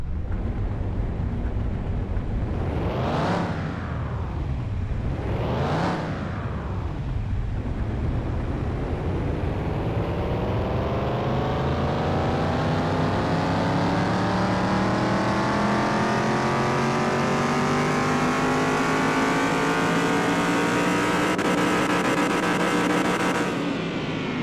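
A tuned car in Car Mechanic Simulator 2021, with boosted ECU and carbs, blips its engine twice in loud sharp revs, then climbs in one long sustained rev that holds a high, strained pitch to the end.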